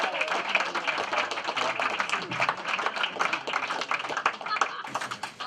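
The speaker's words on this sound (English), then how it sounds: "Keep it clapping." A comedy club audience claps steadily for a doctor being introduced on stage, dense crowd applause throughout with voices mixed in underneath.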